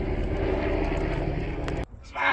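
Helicopters fly over the Dolomites mountain landscape near Passo Gardena and the Cir group, a loud, steady engine roar that cuts off abruptly near the end before another burst of noise.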